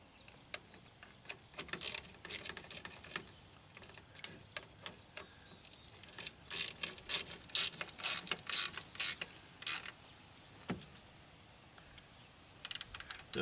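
Small 8mm screws being tightened on the rear hub of a Pontiac Aztek during a hub and wheel cylinder change, heard as bursts of quick metallic ratchet clicks, some spaced and some in rapid runs, fairly close with quiet pauses.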